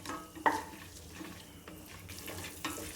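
Fennel seeds and cashews roasting in a pan give a quiet sizzle with occasional soft stirring scrapes and one sharp clink of a utensil against metal, all faint and close.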